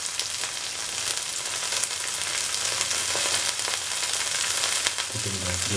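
Cumin and fennel seeds frying in hot oil in a pan, a close, steady crackling sizzle with faint stirring, continuing throughout with no voices.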